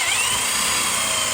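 A power drill bores holes through an Arcade1up Final Fight cabinet, a steady high-pitched whine running loud and continuous throughout at close range.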